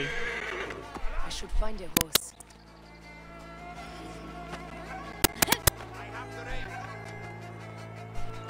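A horse whinnies and snorts in Assassin's Creed Origins, with hoof clip-clops, sharp clicks and game music underneath, and someone speaking over parts of it.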